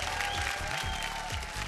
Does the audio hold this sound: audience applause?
yes